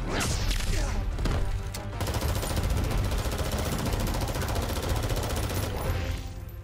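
Rapid gunfire in the Mortal Kombat X story mode, a loud, dense barrage of shots running almost continuously for several seconds with heavy thuds and crashes mixed in.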